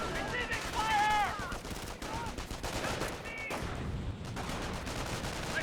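Infantry gunfire rattles across a Company of Heroes battle, dense rifle and machine-gun volleys crackling steadily at mid distance, with unit voice lines heard over the shooting.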